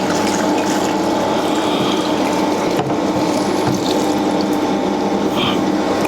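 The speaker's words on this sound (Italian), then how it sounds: "Mettiamo 10 litri di acqua e accendo la macchina." A pizza dough mixer starts up with ten litres of water in the bowl, producing a steady mechanical hum and continuous sloshing, churning water. The sound is close and even, with no voices.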